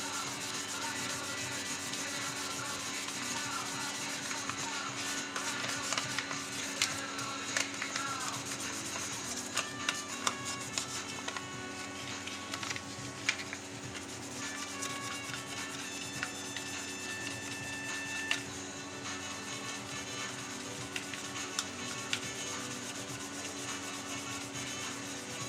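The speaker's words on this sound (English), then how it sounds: "Exciting stuff, this sanding, but it's a necessary part." A Jarrah wood barrel cup is sanded by hand, giving a continuous scratchy rubbing that goes on steadily at close range with small irregular scrapes, quiet and with no voices.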